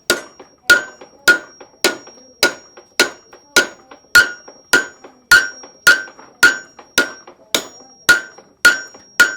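Steady, evenly spaced hammer blows ring out on metal on an anvil, each strike sharp and bright with a lingering clang, repeating about every half second.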